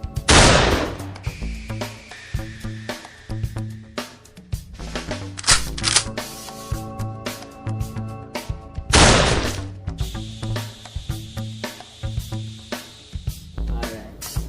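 Rifle fire during military drill training, several sharp loud shots spaced apart with clicking, clattering handling noises between them and no talking.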